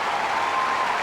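A standing ovation on Wimbledon's Centre Court during the 2003 Agassi versus El Aynaoui match, dense and even applause from a large crowd, loud and unbroken throughout the short moment.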